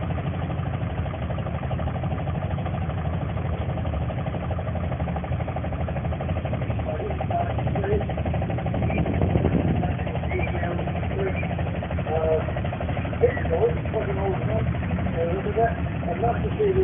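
Turbocharged vintage tractor engine at a farming show, a continuous mid-to-low rumbling run heard steadily throughout, with people talking over it in the background.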